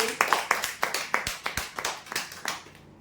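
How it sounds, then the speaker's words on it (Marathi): A lucky-draw audience claps loudly for a prize winner, with a dense run of crisp, near claps in an uneven rhythm that thins out and stops at the end. "जोरदार टाळ्या देण्यासाठी."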